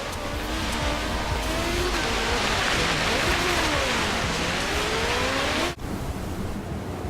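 A fast car in Forza Horizon 3 races over snow and black ice on Blizzard Mountain, its engine a loud sustained roar with rising and falling pitch under a hiss of wind and tyre noise, cutting out abruptly near the end.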